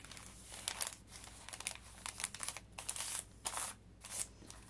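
Paper being folded and creased for giant paper flowers, a series of crisp crinkling and rustling bursts in irregular rhythm, close and moderately loud with no talk.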